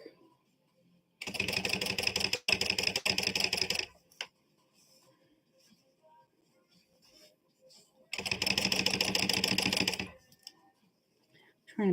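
Sewing machine stitching purple thread, two loud, steady, rapid mechanical runs of a few seconds each, separated by a quiet pause with faint handling clicks, close up.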